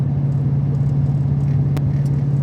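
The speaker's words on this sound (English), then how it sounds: "den här bilen låter sjukt mycket" A Volvo P1800 engine runs at a steady, loud idle, a continuous low rumble close to the microphone with no talk over it.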